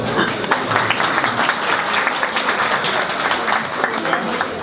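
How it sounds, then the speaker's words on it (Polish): A crowd applauds at a tap house opening, with a steady, fairly loud patter of clapping hands that runs throughout and is mixed with murmuring voices and crowd noise. "Brawa dla pana Piotra!"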